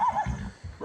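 A four-year-old mare bought in the Kolomyia district neighs close by in a short, loud whinny that rises, dips briefly and then breaks into a second cry at the end.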